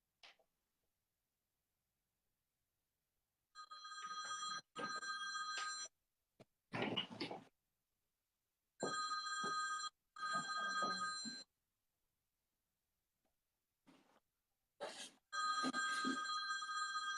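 A telephone rings in repeated electronic bursts, several separate ring cycles with silent gaps between them, fairly loud and close with no talk over them.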